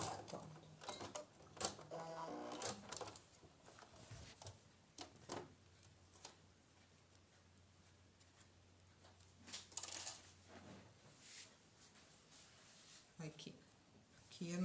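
A sewing machine stitching fabric pieces runs in quick rattling bursts, with a steady whirring hum through the middle and clicks between runs, while someone talks.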